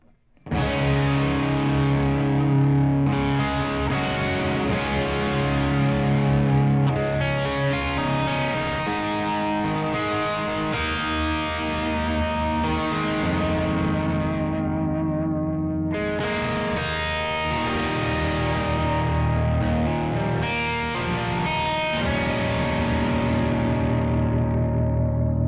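Overdriven electric guitar with the humbucker and neck pickup blended, playing thick sustained chords and riffs continuously at high level, with effects-laden, slightly echoing distortion and no talking.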